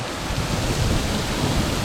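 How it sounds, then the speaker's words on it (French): Severe summer thunderstorm with heavy rain, recorded on a GoPro Hero 8: a dense, steady roar of downpour with deep rumbling thunder underneath, loud and continuous throughout. "Un orage très sévère qui passe à l'instant."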